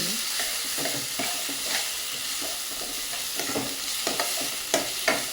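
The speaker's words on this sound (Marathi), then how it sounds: "आता आपण तो भाजून घेणार आहोत कांद्यामध्ये चांगला" Curry leaves, coriander and ginger-garlic paste fry with onions in a pan for green pav bhaji, a continuous close sizzle punctuated by regular scraping strokes of a stirring spoon.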